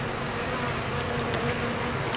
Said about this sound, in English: Got a bee down inside cleaning it out